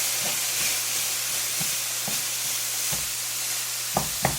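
Okra and meat stir-fry in a pot over high heat, giving a continuous loud sizzle with a low steady hum beneath and periodic scraping stirs, two sharper clanks near the end.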